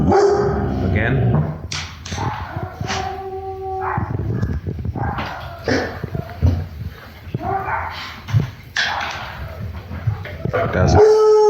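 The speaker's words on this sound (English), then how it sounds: "So we're seeing barking." A reactive dog barks at a stranger in short, sharp bursts with some whines and yips between them, close and loud. People talk quietly in between.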